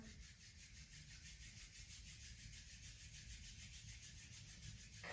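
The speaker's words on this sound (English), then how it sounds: "Rub your hands together." Palms rub together during a slow-flow yoga session, a soft, continuous, even friction whisper heard close and alone for several seconds.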